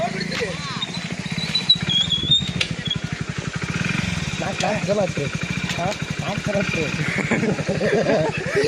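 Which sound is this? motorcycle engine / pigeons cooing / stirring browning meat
motorcycle engine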